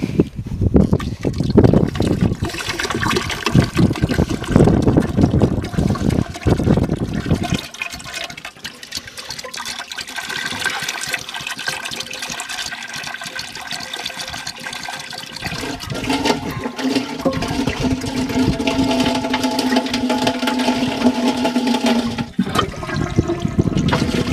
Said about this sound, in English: I have here a whole flask of mercury. Let's see what happens when I tip it in.